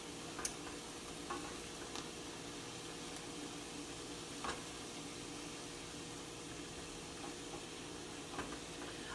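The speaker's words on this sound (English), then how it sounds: "I'm going to get this sauteed down for about 5 more minutes" Peppers, onions, garlic and celery sautéing in a pan for Southern chicken cornbread dressing, giving a faint, steady low sizzle with occasional small ticks and clicks scattered throughout.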